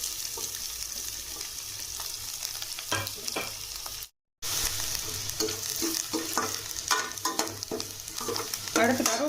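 Garlic, green chili and onion sautéing in a pan for a Tamil tomato kuzhambu, with steady close sizzling, a brief dropout midway, and repeated scraping and stirring taps throughout.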